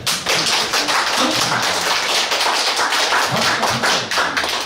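Seminar audience clapping at a lecture, a dense, steady patter of many hands filling the room throughout, fairly loud and close with no talk over it.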